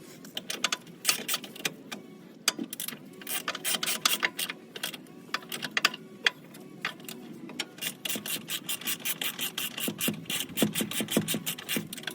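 A hand ratchet clicks in quick bursts while tightening bolts on a Jeep Wrangler JK Bilstein shock, the sharp ticks close and irregular with faint rubbing between strokes.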